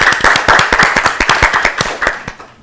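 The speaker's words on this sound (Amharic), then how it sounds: "ለ12 አጨብጭቡላት በደንብ አድርጋችሁ" Children applauding a contestant at a televised Easter quiz competition, a close, lively burst of uneven claps that gradually thins out and fades over a couple of seconds.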